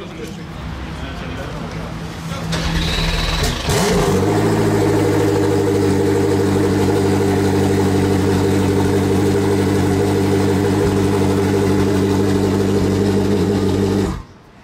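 A Koenigsegg Jesko supercar fires up on a wet Paris street during a rally, its engine catching with a rising whir before settling into a loud, steady, close idle that holds for about ten seconds, with voices underneath.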